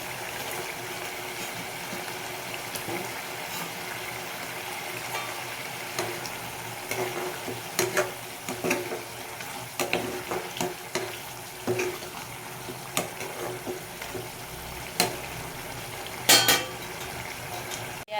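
Pieces of singi fish fry in a hot pan, a steady bubbling sizzle with frequent stirring clinks and scraping of the utensil against the pan, close and moderately loud, without talk.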